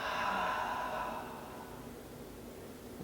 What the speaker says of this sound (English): Deep breath in through the nose and out through the mouth